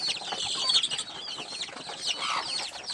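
Many small native-breed chicks, about 35 days old, peep and cheep in a busy, overlapping chorus, high-pitched and continuous at moderate distance.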